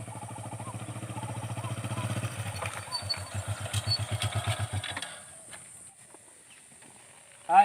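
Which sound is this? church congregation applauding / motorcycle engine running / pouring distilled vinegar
motorcycle engine running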